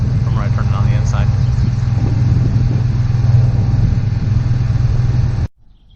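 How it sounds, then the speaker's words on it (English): Generator on a Monaco Safari Trek RV, exhaust at the front, running with a steady droning hum and low rumble, then cutting off abruptly near the end, with faint voice-like sounds early on. "I'm going to show you what the noise was with the generator on."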